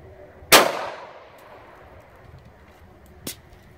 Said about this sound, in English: Our next shot is going to be a 150 grain HST hollow point, 9mm as well.